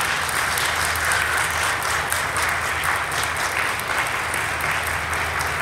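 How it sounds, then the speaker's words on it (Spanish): A Catholic congregation applauds during an evening worship service, producing a loud, sustained, even roar of many clapping hands filling the space for several seconds without a break. "Dale un aplauso al Señor."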